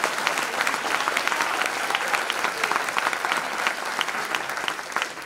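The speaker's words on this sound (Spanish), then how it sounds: "No menos inmerecida será la ovación que hemos de tributar a Gillespie." A theater audience at a live radio show in the National Library gives a dense, sustained ovation, loud and even throughout, many hands clapping together with no talk.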